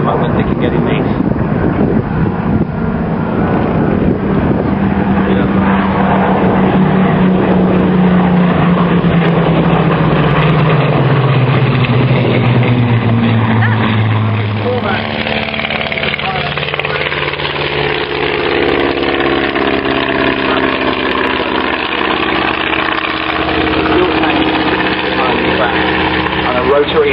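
A World War I–style triplane with a rotary engine flies at an air show, its engine roaring loud and steady with a pitch that sinks as the aircraft passes, under wind noise and someone talking throughout.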